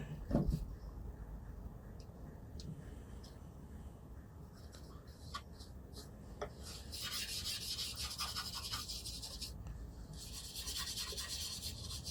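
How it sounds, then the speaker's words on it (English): Wax is rubbed by hand onto shellac-finished wood on a rustic 1920s railway station master's bench. Soft, steady rubbing strokes sit close to the surface and turn into louder, brighter scrubbing passes partway through, with no talking. "we like to put the wax on just to protect the finish"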